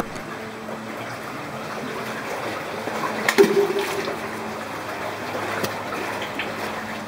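Stinking sewage flows through an underground sewer beneath a Swiss plateau community, a steady rushing wash of water with a brief louder gurgle midway and no speech.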